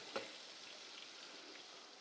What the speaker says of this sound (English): we put it in the oil that was 180 degrees and now we're frying it in it.